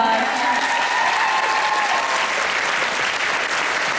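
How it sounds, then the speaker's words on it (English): Audience at a Dragon Con fan panel claps for the event's sign-language interpreter, a steady, dense round of applause filling the hall from start to finish without letting up. "a round of applause"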